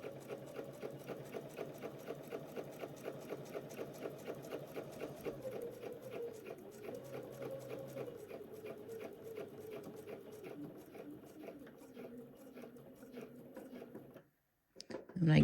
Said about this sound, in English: we're just going to sew right over that previous stitch line again.